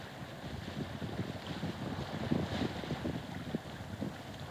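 Motorboat arriving at a mooring among small boats, its low engine drone steady and moderate under outdoor wind buffeting and water noise, with no talk.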